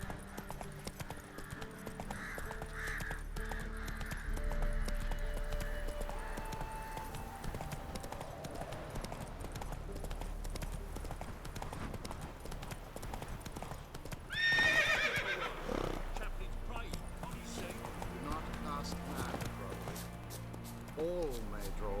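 Roach, the horse in The Witcher 3, gallops in steady rhythmic hoofbeats with a loud whinny partway through, under spoken game dialogue and background music.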